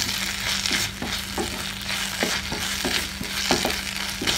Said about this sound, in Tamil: ஒரு 10 நிமிஷம் வதக்குனிங்கன்னா இந்த மாதிரி நல்லா சுருண்டு வந்துடும்.